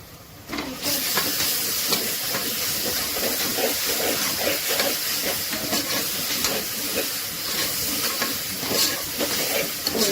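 Ginger-garlic paste frying with mutton and onions in a pan for a mutton tongue and jaw curry, giving a loud, steady sizzle and hiss that lasts throughout with no talking.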